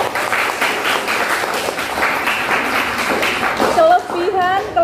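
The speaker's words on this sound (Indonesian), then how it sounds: "Untuk kelompok kalian boleh tepuk tangan." Students applaud a group after a poetry recitation in a classroom, loud, close clapping for about four seconds before a voice begins speaking over the last claps.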